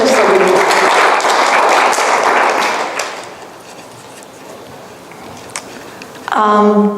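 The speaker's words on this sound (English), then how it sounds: "Let's have an applause for Francesca." Congregational applause at a church service breaks out loud and dense, then thins into scattered claps before fading, with a voice starting to speak at the very end.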